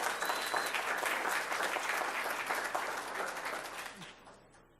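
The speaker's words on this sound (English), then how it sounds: "Let's give her a round of applause" An audience applauds an award winner at a recognition ceremony, broad steady clapping filling the room for about four seconds before trailing off quickly.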